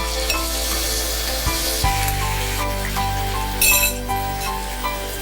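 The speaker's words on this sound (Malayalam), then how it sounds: "ഇനി ആ ബീഫും കൂടി അല്പനേരം ഒന്ന് മൂപ്പിക്കുക." Cooked beef sizzling in hot oil in a pan, a steady loud frying hiss with occasional stirring clinks, no talking.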